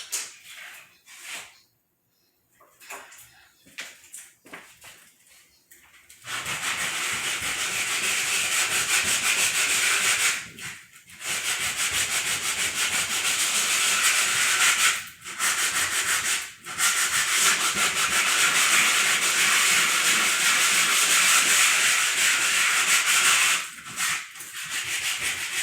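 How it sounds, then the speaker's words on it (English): After a few quiet seconds with light handling, sandpaper scrubs steadily back and forth across a painted stone in close, loud, continuous strokes that break off briefly a few times. "Let's just try sanding it and see what that"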